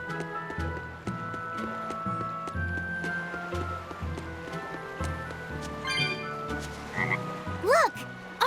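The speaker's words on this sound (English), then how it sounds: "Look! A frog!" Frog croaking in Tales of Berseria at Port Renede by the sea, a run of clear rising calls near the end over a steady layered game soundscape of music and ambience, with no talk.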